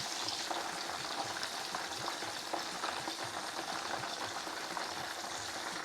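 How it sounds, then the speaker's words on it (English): Beef sizzling in hot oil in a pan for a Chinese beef curry, a steady dense crackle and hiss with small pops throughout, close and continuous with no talking. "you can see the beef cooking really quickly"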